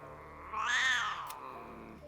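A cat meows in the video game Baldur's Gate 3, giving a single clear, rising-then-falling meow close up against a quiet background.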